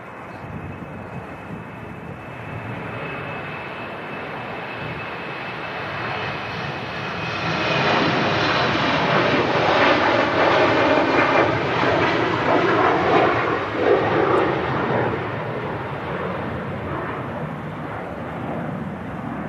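A jet airliner at Manchester Airport, bound for Lisbon, roars steadily and swells louder as it passes close by, with a broad, continuous engine rumble and no voices.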